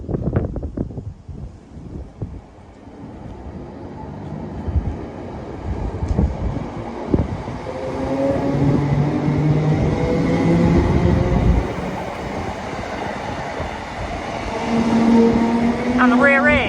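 A Scotrail Class 318 electric multiple unit departs Blantyre station, its motor whine rising in pitch as it pulls away, with wind buffeting the microphone and someone talking early on.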